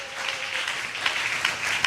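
Congregation applauding during a Sunday church service, a sustained wash of clapping hands with a few sharper, louder claps standing out, moderately distant and continuous throughout.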